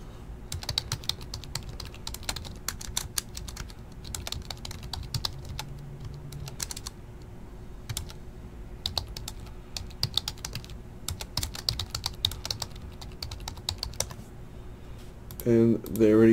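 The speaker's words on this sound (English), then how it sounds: "I do want to type it in right quick" Quick bursts of typing on a computer keyboard, irregular clicks and clacks with short pauses, continuing for most of the stretch at moderate loudness before a brief voice near the end.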